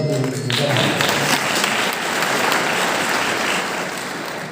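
Loud, dense applause from a large audience at a public address by Maha Guru B.S. Bhandari in Surat, sustained at full strength for several seconds before easing slightly at the end.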